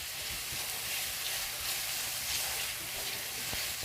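Food sautéing in a pan for a mackerel rundown fills the space with a steady, close sizzle and bright crackle. It holds constant for a few seconds with a few soft scrapes and no voices.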